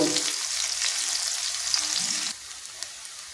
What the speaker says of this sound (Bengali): পেঁয়াজটা দিয়ে পেঁয়াজটা ভালো করে ভেজে লাল করে নেব।